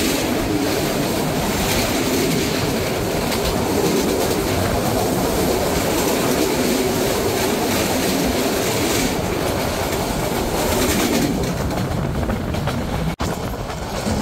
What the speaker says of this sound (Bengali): এই প্রথম আমাদের সাথে ডাবল লাইন ক্রসিং হলো কন্টেনার এক্সপ্রেস ট্রেনের সাথে।